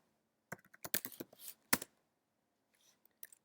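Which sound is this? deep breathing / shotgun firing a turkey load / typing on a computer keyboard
typing on a computer keyboard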